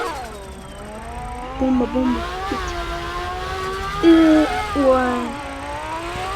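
A car drifts and revs hard, engine pitch climbing and dropping in several sharp surges over a steady growl, with people talking nearby.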